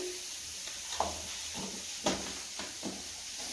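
Fish frying in oil with turmeric makes a steady, soft hiss, with a few light scrapes and taps of a utensil in the pan.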